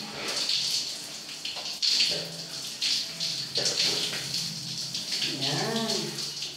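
A shower runs steadily with a hissing spray of water close by, joined by splashy bursts and a brief voice toward the end.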